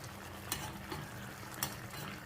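Ridge gourd cooks down in a pan for a tomato kadayal, a steady nearby sizzle broken by occasional stirring scrapes and light clicks.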